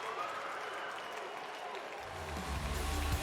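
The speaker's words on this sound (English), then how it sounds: "Crowd having a great time here" An arena crowd at a Monster Jam freestyle event roars and applauds in a dense continuous wash, with a voice and low rumble joining toward the end.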